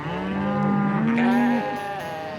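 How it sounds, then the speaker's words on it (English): Cattle in an animated Bible story let out a single long, loud, close moo that swells and then fades, with no talk over it. "Lot traveled to the east with his cattle, sheep, goats, camels, and donkeys."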